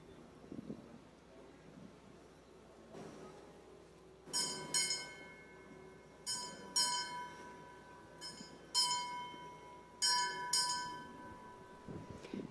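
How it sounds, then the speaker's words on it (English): A ceremonial bell at a National Heroes Day service rings in several distinct pairs of bright metallic strikes, each ringing out and decaying, spaced a couple of seconds apart in a quiet setting. "The ringing of the bell there by Mr. John Douglas."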